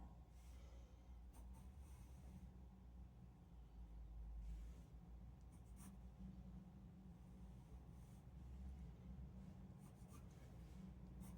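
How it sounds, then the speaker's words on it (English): A pencil scratches across paper in rapid, light strokes, sketching the outline of a historic house for an urban sketch painting, faint and close against a low background hum. "Now let's create the outline of the house using pencil."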